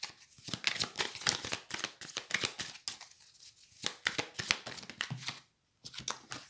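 Oracle cards being shuffled by hand, a steady run of riffling, slapping card sounds up close with brief pauses, ending as two cards jump out of the deck.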